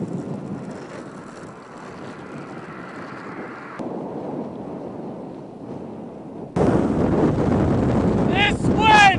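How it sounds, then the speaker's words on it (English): Strong gusts buffet the microphone outdoors while skating, a rough low rumbling roar that surges louder toward the end, with brief squealing sounds over it. "This wind is so strong."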